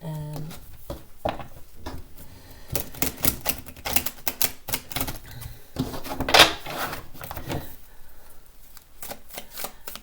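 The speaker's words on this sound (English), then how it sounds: "Shuffle these cards here." Rapid papery riffling and clicking of cards being shuffled, in several bursts with short pauses, close by; a faint voice occasionally underneath.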